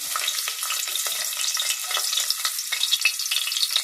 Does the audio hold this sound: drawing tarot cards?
no